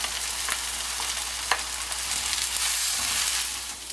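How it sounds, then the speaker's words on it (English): Eggplant and vegetables sauté in a pan, giving a steady, dense sizzle throughout with occasional crackles and light scraping as they are pushed around. "I like to saute the vegetables first to really soften them up"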